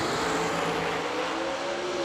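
A drag race car on the launch line with its throttle being cracked, a loud, steady engine drone with a sustained tonal hum and no voices.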